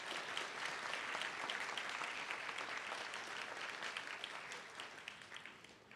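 Steady, dense audience applause at a school honors night, continuous clapping throughout that eases slightly toward the end.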